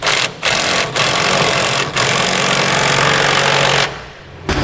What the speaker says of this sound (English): Now we can tighten up our 3/4-inch bolts. We'll use a 1 1/8 socket in order to do that.